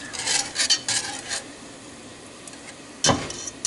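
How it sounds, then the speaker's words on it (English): A whisk scrapes and taps through flour in melted butter in a pot, short bursts of metallic stirring separated by a quieter pause. "I'm using the whisk to stir it instead of a spoon"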